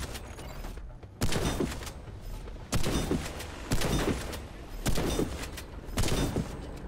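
Shotgun blasts from a medic's weapon in the video game Warface, five heavy booming shots spaced about a second apart during street combat, loud and close with no talking.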